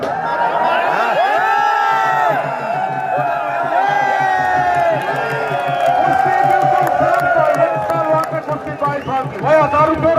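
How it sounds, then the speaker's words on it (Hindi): A crowd at an outdoor wrestling match cheering, whooping and clapping continuously, loud and dense with many voices overlapping, with an announcer's voice over the top. "जोरदार तालियां बजाइए साथियों"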